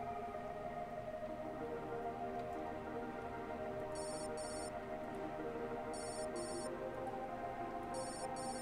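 A telephone in the video game Freeborn rings in short double bursts about every two seconds over a steady bed of sustained background music.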